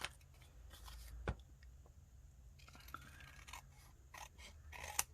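Scissors snip through paper during a pocket-making craft session, producing quiet, close cutting clicks and scrapes scattered irregularly over a soft background.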